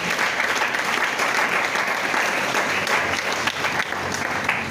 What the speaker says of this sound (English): So let's give a huge round of applause to our Governor, Mr. Babajide Olusola.